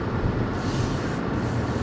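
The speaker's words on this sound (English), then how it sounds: "Sorry about the noise if the air conditioner's a little loud." A loud air conditioner runs in a hot room, a constant broadband whooshing hum that stays steady throughout with no talk.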